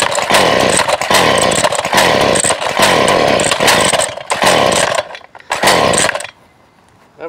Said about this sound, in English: Having trouble starting the weed whacker